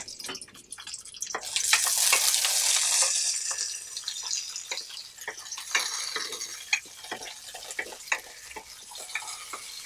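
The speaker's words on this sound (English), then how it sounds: "Fry them all together." Garlic and tamarind frying together in a pan for South Indian thuvaiyal, a hissing sizzle that swells early and then settles, with scattered stirring clicks and spatters, close up and without speech.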